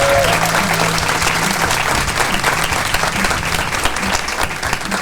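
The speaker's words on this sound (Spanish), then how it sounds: "acompaña con un aplauso que arranca así." Live audience applauding steadily at a podcast recording session at the BAM 2025 market event in Colombia, dense sustained clapping filling the room with a low musical tone underneath.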